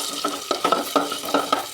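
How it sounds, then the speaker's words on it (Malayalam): Cashews, raisins and chana dal fry in hot ghee with a bright, close sizzle, punctuated by quick rhythmic scrapes and taps of a spoon stirring against the pan. "നെയ്യ് ചൂടാകുമ്പോഴേക്കും അതിനകത്തേക്ക് അണ്ടിപ്പരിപ്പ്, മുന്തിരി, കടലപ്പരിപ്പ് ഇതെല്ലാം കൂടെ ഇട്ടൊന്ന് വറുത്തെടുക്കാം"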